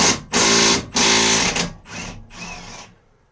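Ratcheting on the 18mm rear shock pinch bolt of a Mini Cooper R50: two loud bursts of rapid mechanical whirring, like an impact or power tool, then two softer, shorter bursts that fade out.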